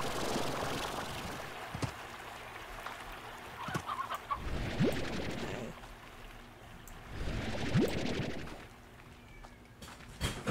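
Chickens in the video game Slime Rancher cluck in two or three rounded bursts of fowl calls over a steady background hum, with clicks and thuds between them.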